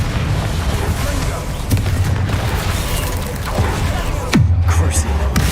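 Confringo explosive spell blasts in Hogwarts Legacy, loud booming bursts over a dense, continuous game soundscape, with a sharp impact near the end.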